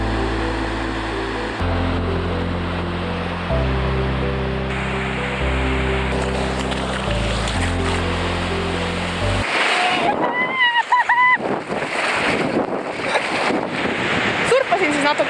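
Background music plays first, then high ocean waves crash onto a sandy beach with loud, churning surf and heavy wind buffeting the microphone.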